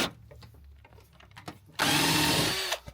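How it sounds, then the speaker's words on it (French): A power drill is used while fitting a body kit to a Nissan 100NX in a garage. Quiet handling noises and knocks come first, then a loud, close whirring burst of just under a second. "J'aime bien la perceuse"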